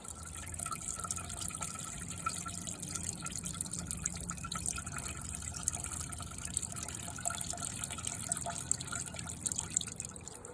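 Oil and gas mix draining from an engine block, a steady, continuous liquid trickle and drip running unbroken throughout at moderate level.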